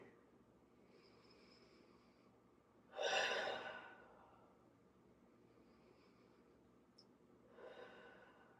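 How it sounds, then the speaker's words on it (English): Deep breathing during a yoga stretch, held in downward facing dog: quiet breaths give way to one strong, close exhale around the middle, then a softer breath toward the end against a hushed room. "Take 3 more deep rounds of breath."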